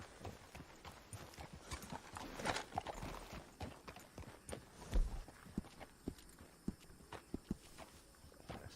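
Horse hooves clip-clopping at a steady walking rhythm in Red Dead Redemption 2 Online, close and moderately loud, with scattered brighter knocks and faint background ambience; no talking.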